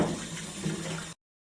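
Water runs from a tap in a simple kitchen where a pot and spoon are being washed, a steady, close rushing flow that lasts about a second and then stops abruptly.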